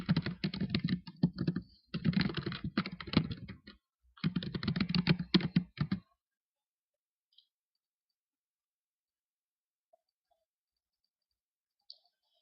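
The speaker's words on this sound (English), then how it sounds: "I'll go up top to the login and type in my login information." Login details typed on a computer keyboard, a close burst of rapid clicking keystrokes in three short runs over about six seconds, then near silence with a few faint ticks.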